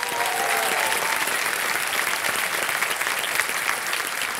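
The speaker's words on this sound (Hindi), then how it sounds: "एक बार फिर तालियों के साथ इनका स्वागत किया जाए" A studio audience on the KBC Season 14 quiz show claps steadily, giving full, sustained applause that welcomes a contestant and holds at an even level throughout.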